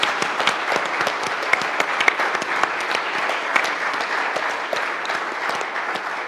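A congregation group at a site tour receives steady, dense applause from an audience, sustained and fairly loud throughout with no talking.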